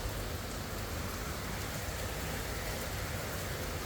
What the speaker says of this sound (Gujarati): એકદમ ફૂલ વરસાદ ચાલુ થઈ ગયો હવે તો